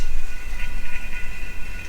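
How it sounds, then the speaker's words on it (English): Steady mechanical hum of an oil extractor during a Sea-Doo oil change, with a gurgling, sputtering texture of air being drawn through oil, close up and continuous, no talking. "it's going to start to blow some bubbles or suck some bubbles in here"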